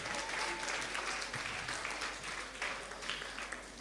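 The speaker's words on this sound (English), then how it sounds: "Let's give grade 3 an extra round of applause." Audience at a school creative art and science fair applauding a grade 3 group, steady dense clapping from many hands held at an even level throughout, fairly distant in a large hall.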